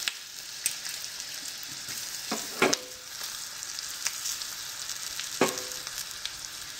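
Coarsely crushed garlic, asafoetida and dried red chillies frying in hot oil for a tadka over spinach dal, giving a steady soft sizzle broken by a few sharp stirring clatters, close and moderately loud.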